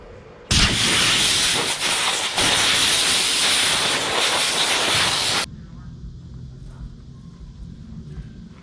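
An Overmont electric pump inflating a paddleboard comes on suddenly as a loud, steady broadband whir and airy hiss, runs continuously for about five seconds, then cuts off abruptly, leaving quiet room noise behind.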